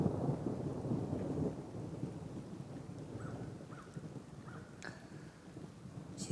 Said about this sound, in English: a nice rainy day like this.